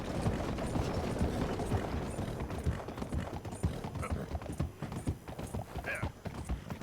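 A horse in Red Dead Redemption 2 runs with rhythmic hoofbeats. The hooves pound close and dense at first, then turn looser and more uneven, with faint mechanical clicks mixed in.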